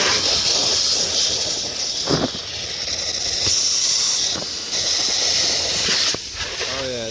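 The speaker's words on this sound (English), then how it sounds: "Give this thing a little rinse off." A steady, loud spray of water hissing as it rinses a Coolster 125cc ATV that sat full of water for a year, continuous and close, with brief dips and a few bumps as the nozzle shifts.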